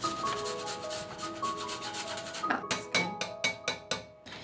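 Fresh ginger rubbed against a grater for a poke bowl, a steady scraping rasp that turns into several distinct rhythmic strokes near the end, close and fairly loud with no talking.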